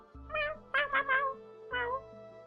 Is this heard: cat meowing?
yes